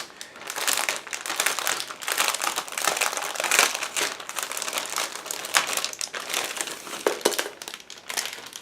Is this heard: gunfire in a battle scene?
no